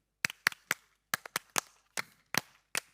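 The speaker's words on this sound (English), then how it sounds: "Can you all help us summon confidence monitor God by clapping out this specific rhythm?" An audience at the WSC 2022 Dubai Global Round opening ceremony claps a set rhythm in unison, crisp grouped claps in short patterned bursts separated by brief silences, with no talking.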